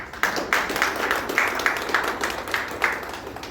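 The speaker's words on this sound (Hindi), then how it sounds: "हम चाहते हैं कि आप अपने लिए ही ताली बजाएं" A group at a workplace communication skills session claps for themselves: rhythmic, fairly close clapping in roughly even beats with a faint murmur of voices underneath.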